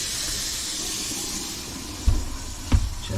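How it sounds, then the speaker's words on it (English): Water runs from a newly replaced kitchen faucet into a sink, a steady hissing stream with two brief thumps near the end, fairly close and with no voices. "Run the water."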